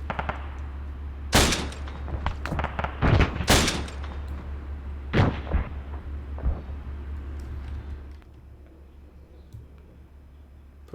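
40mm grenade launcher fire in ArmA 3: a handful of sharp, loud launches spaced irregularly across the clip, ringing over a steady low background drone, with no talking.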